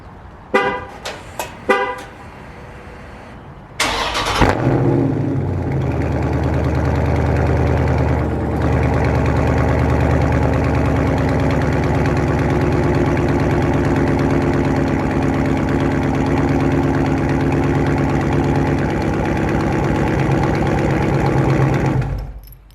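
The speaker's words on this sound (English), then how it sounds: "I'm gonna hit you guys with a cold start" A Dodge Charger horn chirps a few times before the engine cranks and fires on a cold start, then settles into a steady, loud idle that drones close by for nearly twenty seconds before cutting off.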